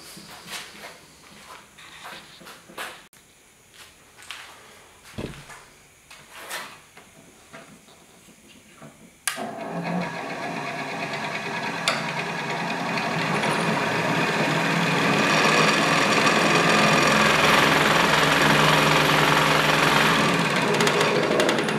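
Delta 16-inch variable speed scroll saw: a few clunks and knocks of handling, then a sharp switch-on into a steady, close motor whir that builds and holds as a smooth continuous drone.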